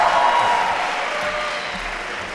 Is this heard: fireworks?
no